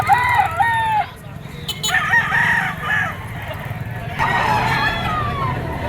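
Gamecock bull stag roosters crow loudly nearby at a Padre Garcia, Batangas market, several overlapping cock-a-doodle-doo calls in bursts, with clucking and a low background rumble of traffic.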